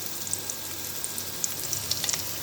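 Onion frying in oil in a pan for an okra and cluster bean vegetable dish, a close, continuous sizzle dotted with small sharp crackles and pops throughout.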